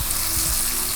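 Onions and tomatoes frying in a pot for lentil soup, a steady close sizzle holding level for a short moment with no voices.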